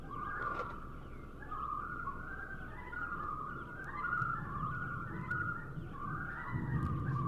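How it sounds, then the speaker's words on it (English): A common loon gives its laughing, whistling call: a sustained, wavering, tremolo-like wail that carries steadily from a moderate distance over a low background rumble, with no voices. "So here's a laughing whistle. That we're hearing right now, that's that."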